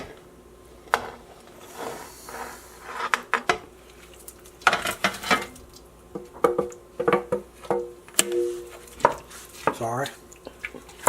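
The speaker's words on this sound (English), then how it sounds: "Now we're going to add our brown beef." Browned beef goes into a stew pot with cloves in it, marked by a string of wet thuds, clinks of a utensil on the pot and scraping, irregular and close at hand.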